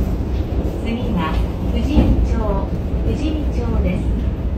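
The Shonan Monorail in Kamakura runs with a steady, close rumbling drone from the cab, a continuous mechanical hum with faint rising tones and no pauses.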